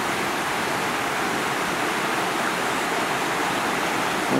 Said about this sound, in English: where we have several weirs on the river